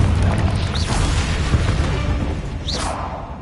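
A Confringo spell explosion in Hogwarts Legacy lands as a loud, rumbling blast that fills the moment and slowly fades. Two brief whooshing streaks cut across it, and no one speaks.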